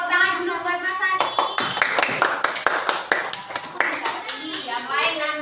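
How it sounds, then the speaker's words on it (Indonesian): A classroom of students claps for a classmate, a few sharp separate claps growing into a steady patter of applause, close and lively, with children's voices and chatter mixed through it. "Yuk tepuk tangan dulu buat Mas Sani."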